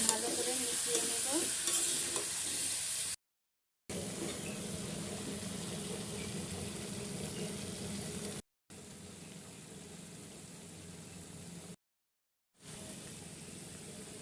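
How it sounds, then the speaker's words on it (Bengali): A dried fish curry with vegetable stems, potato and eggplant is stirred in a pan, giving steady close scraping and soft sizzling over a low hiss, broken by three brief silent gaps. "ডাটা আলু আর এলে একটা বেগুন ছিল ঘরে, বেগুনটাও দিয়ে দিয়েছি। এখন ভালো করে মিশিয়ে নেব।"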